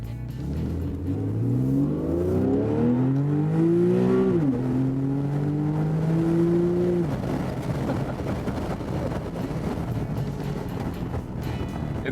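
A Mercedes SL or Porsche 911 GT convertible engine in Sport Plus mode revs up in rising sweeps, drops sharply, climbs again, then settles back, loud and close.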